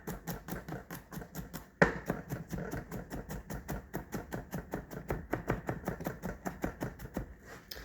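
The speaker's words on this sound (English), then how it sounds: "we're just going to do a quick chop" A knife chops an onion quickly on a cutting board while making chicken parmesan: a fast, steady run of crisp, close taps that continues without a break, with one sharper knock partway through.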